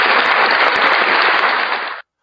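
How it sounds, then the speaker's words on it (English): Loud, dense audience applause fills about two seconds with a continuous roar of clapping, then cuts off abruptly into silence. "round of applause there for Mr. Cole."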